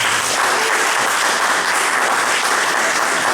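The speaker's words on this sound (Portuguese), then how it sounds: "Salve de palmas para a Patrícia." Audience at a literary festival talk in Garopaba claps, a dense, steady burst of applause that is loud and even throughout with no voices over it.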